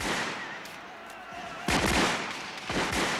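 Gunfire rings out during the storming of the Bastille: distant scattered shots, then two louder, closer reports, the second a few beats after the first, over a background of crowd noise.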